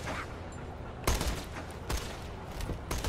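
Gunfire in the Borderlands 2 video game, with several sharp broadband shots at intervals among a steady bed of game ambience, fairly close and loud.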